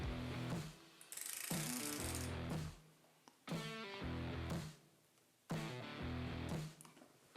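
Ratchet-type torque wrench clicking in repeated bursts while tightening bolts on a BMW GS motorcycle to 20 Nm in a crisscross pattern, close and fairly loud with brief pauses between passes.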